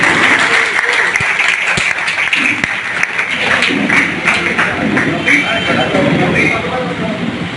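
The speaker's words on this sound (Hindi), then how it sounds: "विजयी हुए, उसके लिए जोरदार ताली।" Loud, continuous clapping fills a room at a community society election as a winner is cheered, with a few sharp distinct claps standing out and a voice talking over the applause.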